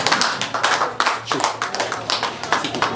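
A crowd at a political rally applauds the party leaders with brisk, irregular clapping, close and steady, and a voice talks underneath.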